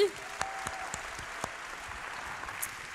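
An audience at a startup awards evening applauds as Rabeb Fersi is called up, a soft steady spread of clapping with a few sharper claps standing out nearby and a brief tone at the start.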